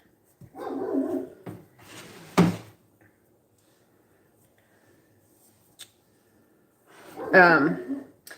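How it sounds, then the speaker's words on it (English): A dog barks a few times, a couple of short sharp yaps followed later by a longer bark, with quiet gaps between. "our dog is just barking"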